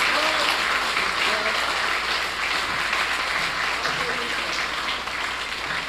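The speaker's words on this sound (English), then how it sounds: "You had that round of applause?" A full round of applause from an audience at a Saint Lucia ConnectED education event: continuous, even clapping throughout, with a faint voice murmuring underneath.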